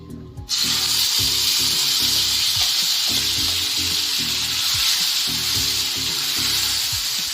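Hot oil sizzles in a pan while coriander chutney is prepared. The sizzle starts abruptly, then stays loud, close and continuous, with faint low knocks beneath it.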